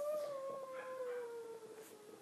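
A dog howls somewhere in the room behind gameplay: one long, drawn-out howl that slowly falls in pitch, fairly faint and without any talking.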